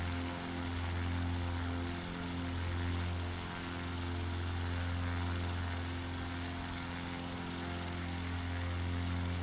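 Super Decathlon propeller plane in a flight simulator, its engine leaned to maximum power, droning steadily and loudly throughout with a constant tonal hum and no talking.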